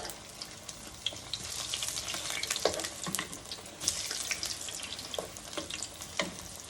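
Buttermilk buffalo cauliflower frying in a pan, a busy crackling sizzle with scattered sharp pops and clinks, fairly quiet and close, with no voices.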